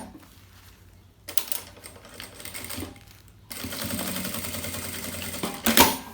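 Sewing machine stitching the fabric lining of a children's bag, a faint rapid mechanical chatter that starts and stops in short runs, with a brief louder clack near the end, no speech.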